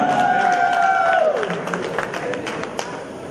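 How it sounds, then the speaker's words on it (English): A church congregation claps at a celebration service, scattered hand claps over a sung or chanted tone that slides down early on, crowd noise in the background. "Clap for Jesus"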